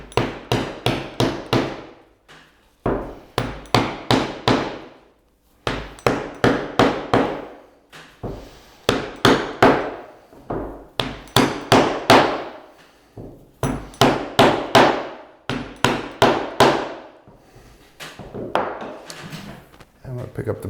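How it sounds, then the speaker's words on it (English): Hammer tacking fabric tight onto a board for a card-trick close-up pad: rapid bursts of three to six sharp, close taps, repeated in clusters with short gaps between them. "I'm going to take a hammer and I'm just going to tack these in tight."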